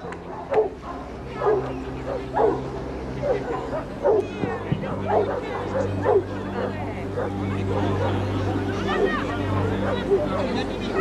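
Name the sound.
dog barking during a water rescue exercise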